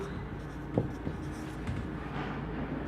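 Chalk or marker scratches across a board as a maths teacher writes out a linear equation for travel charges, a few short scrapes and taps over a dull room hum.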